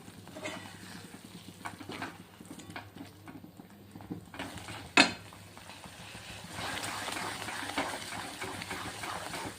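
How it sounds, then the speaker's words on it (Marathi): Chopped coriander stirred into a sizzling masala for masoor dal tadka, giving faint, soft scraping strokes with one sharp metallic clink midway and a low frying hiss that swells toward the end. "आता याच्यामध्ये ॲड करायची आहे आपल्याला कोथिंबीर थोडीशी म्हणजे कोथिंबीरचा मसाल्यामध्ये पण टेस्ट चांगला उतरला पाहिजे आणि असं मिक्स करून घ्यायचे"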